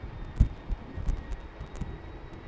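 Airbus A330 jet engines spooling up for takeoff on runway 36L at Amsterdam Schiphol in windy conditions: a distant, steady low roar, with gusts of wind buffeting the microphone in soft thumps.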